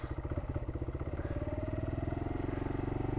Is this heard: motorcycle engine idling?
yes